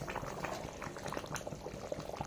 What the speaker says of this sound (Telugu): కొద్దిసేపు వరకు అట్లనే ఉడుకుతూనే ఉంటుంది, బంద్ చేసినా కూడా స్టవ్